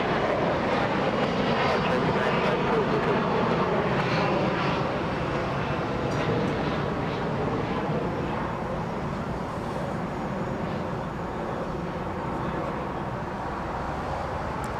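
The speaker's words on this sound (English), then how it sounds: "The engine sucking in all that air." An American Airlines Boeing 777 heavy jet taking off from runway 25 right at Los Angeles International Airport, a sustained loud engine roar with broadband rushing noise that stays steady throughout.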